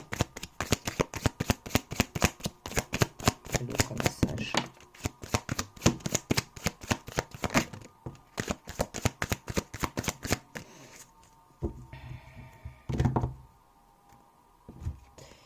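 Tarot cards are shuffled in a rapid run of crisp riffling flicks and taps, then the pace slows to scattered soft knocks and slaps as cards are drawn and laid down, close and fairly quiet.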